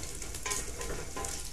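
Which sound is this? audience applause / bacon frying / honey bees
bacon frying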